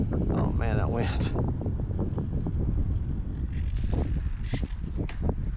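Gusty outdoor wind buffets the microphone at an RC flying field, a steady loud roar with rising and falling gusts, and a voice is briefly heard near the start.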